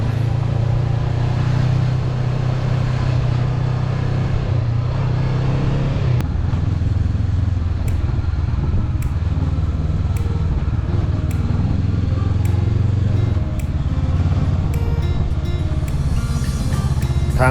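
Car climbing a rough mountain road to Khao Sawan at Suan Phueng, Ratchaburi, a steady loud engine drone with shifting load, rattles and knocks from the uneven surface, recorded from inside.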